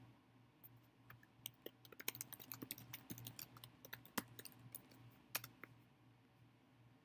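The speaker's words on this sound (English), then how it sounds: "So I'm going to start typing here." Quiet typing on a computer keyboard while building an online survey, with irregular bursts of key clicks, some sharper strokes, and a faint steady hum beneath, no talking.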